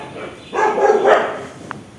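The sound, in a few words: dogs barking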